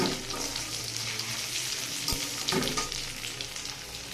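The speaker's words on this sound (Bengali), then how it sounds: "যেটা পোলাওতে দেবো মশলা সেটা আমি দিয়ে দিচ্ছি, গোটা মশলা।" Soaked whole spices for pulao fry in oil with a loud, crackling sizzle, punctuated by a few clanks and scrapes of stirring.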